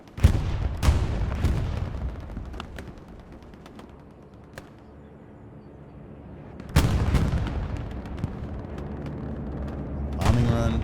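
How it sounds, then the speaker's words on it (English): Bombing run over a strong point in Hell Let Loose on the Sainte-Mère-Église map, with heavy explosions booming in several loud waves, sporadic gunfire between them and a low rumble lingering after each blast. "Bombing run."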